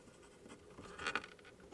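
Pen or pencil writing out notes, a soft, close scratching and scribbling that swells briefly near the end, heard alone without talk.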